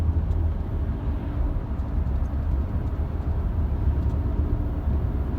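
A manual car's engine hums in fourth gear with a steady, loud low rumble from inside the cabin. The drone is continuous, with no talking over it.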